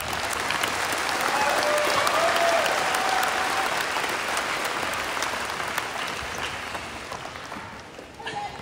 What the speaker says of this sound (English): can we get a round of applause for everyone that has made it to this day?